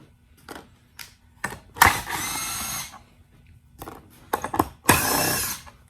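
A power drill backing screws out of pallet wood, several short whirring bursts followed by two longer, louder spins, close and alone with quiet gaps between.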